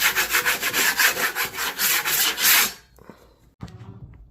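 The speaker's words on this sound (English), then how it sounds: "Scrape off any loose stuff" A putty knife scrapes loose material off a drywall patch during a hole repair in a wall, making rapid rhythmic rasping strokes up close, then a pause followed by a couple of faint taps.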